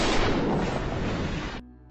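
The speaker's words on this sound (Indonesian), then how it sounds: "Kapolsek langsung menembak Holik hingga tewas." Gunshot sound effect in a dramatic scene: one loud, dense blast that holds broad and heavy for about a second and a half, then cuts off sharply into a faint tail; no voices.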